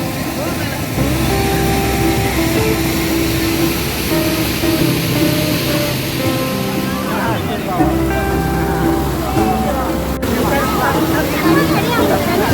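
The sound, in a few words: Kalakadu waterfall with crowd of visitors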